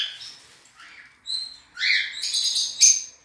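Young birds in a nest, including small songbird chicks, give thin high chirps and short squeaky calls, close and fairly loud, in brief bursts with quiet gaps between them, no talking.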